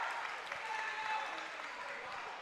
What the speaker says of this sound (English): The gym is loud. Everybody's here. They're up, standing up, cheering.